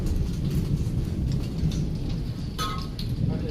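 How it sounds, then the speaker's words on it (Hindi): During a heavy rainstorm, thunder rumbles low and continuous under a dense wash of rain, with a brief sharper crackle near the end. "देखो अभी भी आसमान क्या कड़क रहा है"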